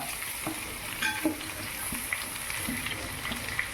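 Sliced onions and green chillies sautéing in a pan for chicken curry, a low continuous sizzle with a few light stirring clicks, fairly faint and close.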